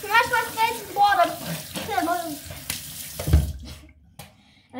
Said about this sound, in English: And I smash my face with water.